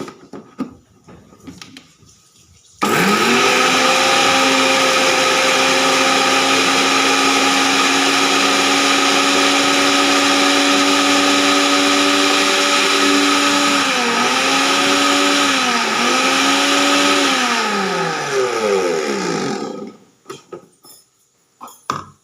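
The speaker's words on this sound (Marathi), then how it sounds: "हे मिक्सरमधून बारीक करून घेतलेलं आहे आपण" A kitchen mixer grinder whirs loudly and steadily as it blends green chillies and coriander, its motor note dipping briefly in pitch near the end before it cuts off.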